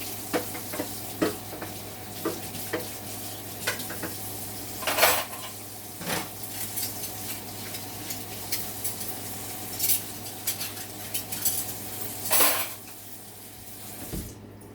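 Small pots and utensils clatter in a home kitchen while salmon, rice and broccoli cook, irregular metallic clinks and knocks over a steady sizzle and low hum, with a few louder scrapes.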